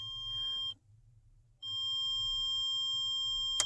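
A multimeter gives a steady continuity beep while probing the pins of a PCM connector on a 1997 Ford F350 7.3 Power Stroke, a clear tone sounding twice with a short gap between, no talking over it.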